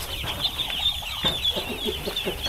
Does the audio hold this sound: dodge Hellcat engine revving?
no